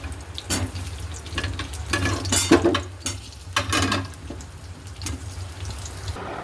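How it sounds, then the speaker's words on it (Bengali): Potatoes go into oil in a wok that was used earlier for frying fish, making bursts of sizzle and crackle with stirring and scraping, swelling and easing close by. "কড়াইটাতে তেল দিয়ে দিয়েছি আর এই যে আলুগুলো দিয়ে দেবো"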